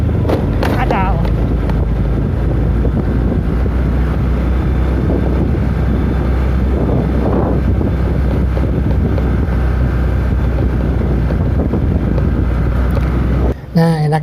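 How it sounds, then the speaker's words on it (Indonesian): Wind buffets the microphone as a motorcycle rolls along a village road, a loud constant low rumble under occasional speech, ending with a brief drop-out. "Ya, berangin ya, sekarang windy."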